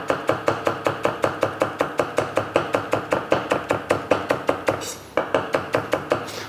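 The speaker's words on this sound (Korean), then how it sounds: "결대로 그대로 이렇게 결 반대로 이렇게 썰어 주시는 겁니다" A kitchen knife slices food against the grain on a cutting board in a quick, steady run of crisp chopping thuds at close range, with a short pause before the rhythm resumes, and no speech.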